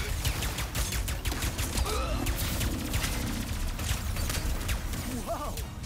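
Rapid gunfire in Ratchet & Clank: Rift Apart, a busy clatter of repeated shots and mechanical crashes over a loud, dense game soundscape, with brief voice-like sounds mixed in.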